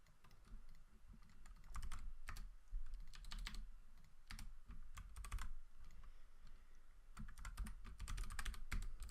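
Typing on a computer keyboard during hacking work, a steady close patter of key clicks arriving in rapid bursts separated by short pauses, quiet and alone with no talking.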